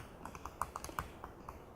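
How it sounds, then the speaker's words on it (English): Keys tapped on a new computer keyboard, a sparse series of about a dozen light, close clicks spaced irregularly against a quiet room background. "Once again, keyboard, new computer."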